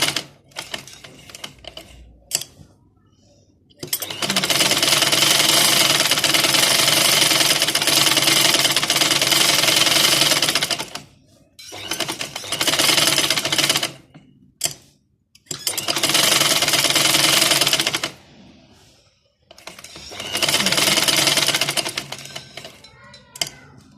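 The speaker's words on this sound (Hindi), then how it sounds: "ये जो अब पॉकेट की सिलाई है देखिए, ऊपर से शुरू करके हम बिल्कुल इनको बराबर रख के इधर से हमने ये सिलाई देनी है" A sewing machine stitches the side seam of a pocket in four long running bursts of rapid mechanical chatter, separated by quiet pauses with small handling clicks, close and loud.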